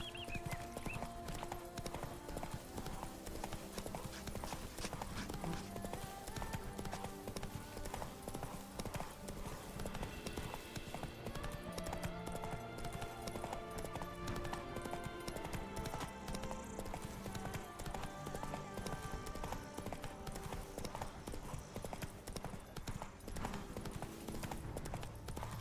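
Hooves of the horse Roach clip-clop at a steady trot in The Witcher 3, a continuous even rhythm alongside a constant music bed, moderately close.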